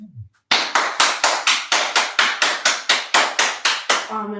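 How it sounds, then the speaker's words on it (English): A person claps their hands about fifteen times in a quick, even rhythm, each clap sharp, close and loud, to set off a phone-finder app; a short electronic tone follows right after the last clap. "So when I lose my phone, I can just clap."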